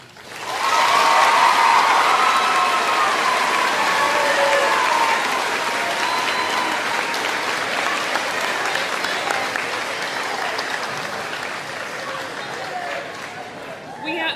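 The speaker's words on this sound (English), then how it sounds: "One more round of applause for Claire" An audience at a middle school 8th grade moving-on ceremony breaks into loud, sustained applause with cheering, swelling quickly and then slowly tapering off over several seconds.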